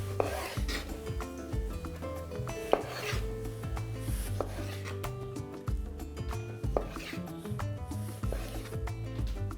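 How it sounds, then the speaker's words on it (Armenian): A knife cuts cherry tomatoes into quarters, giving repeated soft chops and scraping rubs against a board at an uneven rhythm, close and moderately loud, with no talking. "Չերի լոլիկները կիսում ենք 4 մասի"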